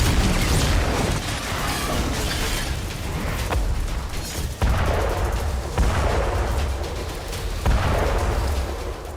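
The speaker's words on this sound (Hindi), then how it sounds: "ऐसा धमाका होगा तो क्या होगा?" Explosion sound effect: a series of heavy booming blasts and rumbling bursts, loud and close, each breaking out sharply over a continuous roar.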